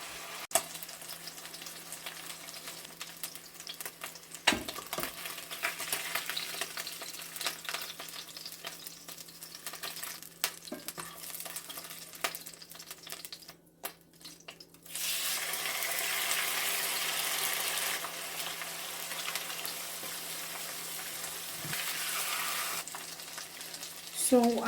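A seasoned fish fillet fries in a pan for a fish-in-egg-sauce dish, giving a continuous soft sizzle with a few clicks and clatters. The frying turns louder and denser about halfway through, and no one speaks.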